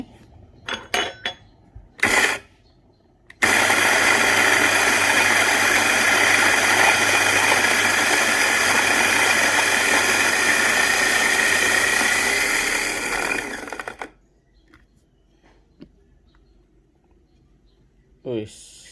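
Coffee grinder set to 2.5 milling a 16-gram dose of Triple Arabica Flintlock blend beans, a loud steady whirring grind of about ten seconds, preceded and followed by clinks and handling noises.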